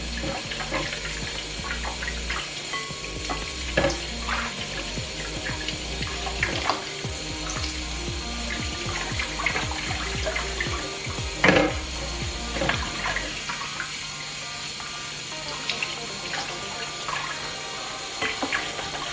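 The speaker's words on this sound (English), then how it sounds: "When you wash your meat properly" Oxtail meat, about a pound, being washed under a running kitchen tap, with a steady rush of water broken by splashes and clatter from handling the meat in the sink, continuous and fairly close.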